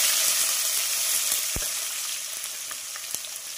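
Finely chopped tomato added to hot oil with fried curry leaves, a loud bright sizzle that starts strong and slowly settles, with a dull thump and a few light clicks from the pan, no voices.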